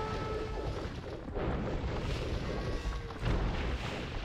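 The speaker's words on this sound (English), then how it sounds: "He's got some cannon galleons taking out the castle on the right." Cannon galleons fire on a castle in an Age of Empires 4v4 match, a steady rumble of dense, overlapping booms and crashes that runs throughout with no clear individual shots.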